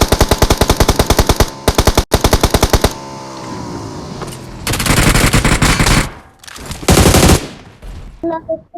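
Rapid automatic gunfire bursts from the PUBG Mobile battle royale game, loud staccato volleys broken by short pauses and then renewed sprays of shots.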